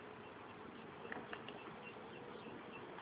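Honey bees buzz around an opened ten-frame hive, a quiet, steady drone of many insects with no talk.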